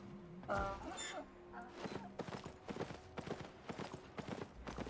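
Rhythmic clip-clop of horse hooves galloping at close range in the video game Albion, steady beats running under a brief voice and game noises.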